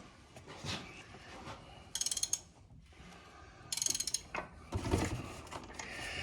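A ratchet wrench cranks over the engine of a 1980 Mercedes 450SEL, giving quick bursts of clicking with mechanical creaks and rattles in between, fairly close and quiet.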